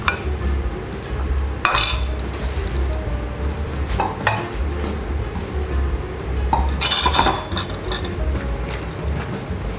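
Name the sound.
crab and taro soup starting to boil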